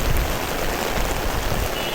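Steady heavy rain pours down on a street, a dense continuous hiss of drops striking the pavement, loud and close throughout with no voices.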